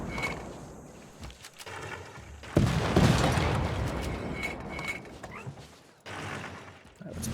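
A unit firing in Civilization VI, heard as a loud burst of artillery-like gunfire and rumbling that sits over steady game background noise and then fades.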